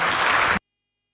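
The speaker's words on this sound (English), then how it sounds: "Please, a round of applause to my panelists as we take our seats" A short burst of audience applause for panelists at a live African Liberation Day event, dense and steady, that cuts off abruptly after about half a second.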